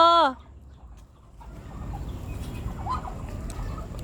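Ducks on a farm give one short, clear call at the very start, then fall back to soft scuffling and low farmyard rumble for the rest.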